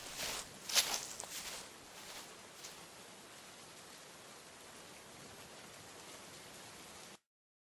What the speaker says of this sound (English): it's just rain.